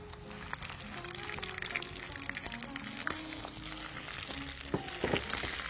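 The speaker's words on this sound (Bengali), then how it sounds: "পেঁয়াজটাকে হালকা সোনালি রং করে ভেজে আমি এর মধ্যে সব বাটা মশলাগুলো দেব।" Onion fries in a pan with ground ginger, onion and garlic paste stirred in. A steady soft sizzle runs throughout, with scattered pops and clinks of stirring.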